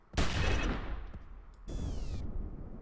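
Rapid bursts of gunfire from a sniper weapon in the shooter game Battle Steed Gunma, with a loud opening volley, a brief lull, then a second burst carrying a bright metallic ring, no voices.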